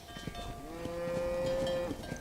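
Cattle being herded in Red Dead Redemption moo with a single long, sustained low call over a steady ambient background.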